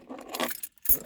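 Car keys jangle in a short metallic burst, then a brief gap before a second sharper rattle as a car is about to be started, close and fairly quiet.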